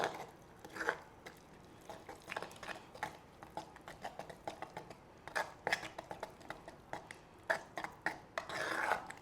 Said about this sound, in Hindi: मैं थोड़ा पानी डाल लूँ और मिक्स कर लूँ।